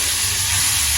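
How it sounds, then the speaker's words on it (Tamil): Onions sautéing in a large pan with green chili and curry leaves, a loud steady close sizzle and hiss of frying that runs without a break. "இப்போ இந்த வெங்காயம் வதங்கி கொண்டு இருக்க உப்பு போடுவோம்."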